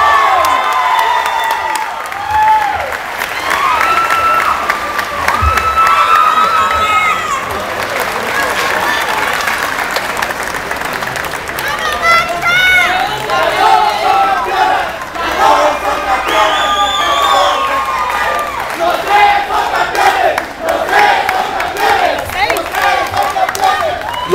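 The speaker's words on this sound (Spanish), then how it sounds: "Aplauso para José Solís." Applause and cheering from a crowd at a barista championship in Costa Rica, sustained and loud throughout with whoops and shouts layered over steady clapping.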